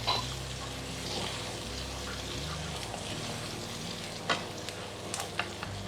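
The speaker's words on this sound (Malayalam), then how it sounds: "ഇതിലേക്ക് നമുക്ക് വെളുത്തുള്ളി ഇഞ്ചിയും കൂടി ഒന്നിച്ച് ആഡ് ചെയ്യാം." Garlic and ginger drop into hot coconut oil for chicken kondattam, raising a soft, continuous sizzle with a few light clinks and taps of a utensil, fairly quiet and free of talk.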